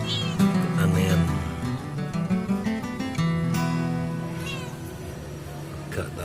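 A male calico cat meows several times in drawn-out, wavering, close cries, with some background noise under them.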